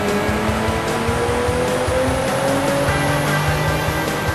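Nissan 350Z engine running on a dyno with fully synthetic ENEOS 0W50 oil, a loud, steady mechanical roar with a climbing pitched whine and rhythmic pulsing, close up and unbroken, no speech.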